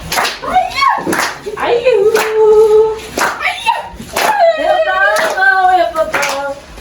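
A church congregation claps hands in a lively beat during an overnight prayer service, the sharp claps mixing with loud singing and shouted praise from the worshippers.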